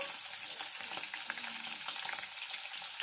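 Mustard seeds, cumin, chili and curry leaves crackle and sizzle steadily in hot oil, with a dense close frying hiss and scattered pops and no voices.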